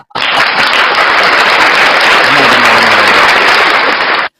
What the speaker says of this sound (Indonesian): Saya kasih tepuk tangan ya